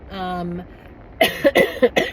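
A short hum of voice is followed by a burst of several sharp, rough coughs in quick succession, close and fairly loud.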